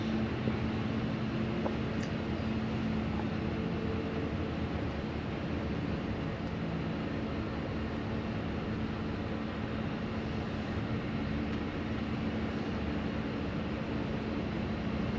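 Heard from inside a 2016 Thor Challenger 37LX Class A motorhome with a 362 HP engine, a steady low engine and road drone climbs a hill, constant and moderately faint throughout.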